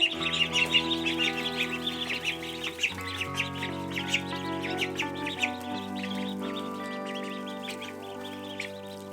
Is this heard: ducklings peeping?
yes